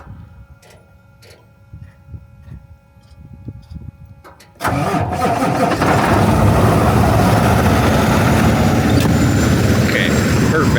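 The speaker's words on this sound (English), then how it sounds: "Just gonna start this up, let it warm up a little bit before I give it a bath." A truck engine cranks and catches abruptly, then settles into a steady, loud idle as it warms up, after a stretch of quieter ambient noise at the start.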